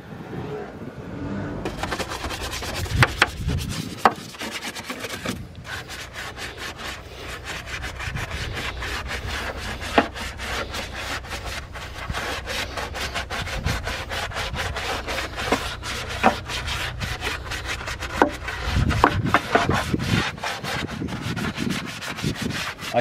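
A car boot being scrubbed with degreaser during a deep clean gives a steady, close brushing and rubbing sound with rhythmic strokes that runs for most of the stretch, with a few sharper knocks along the way.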